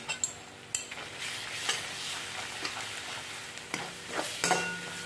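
Garam masala stirred into a sizzling misal gravy in a pan, a soft continuous fry hiss with occasional spoon scrapes and knocks, close but fairly quiet, no talking.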